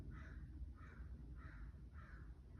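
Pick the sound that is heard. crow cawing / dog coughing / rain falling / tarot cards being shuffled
crow cawing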